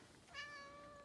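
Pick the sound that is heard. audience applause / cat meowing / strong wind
cat meowing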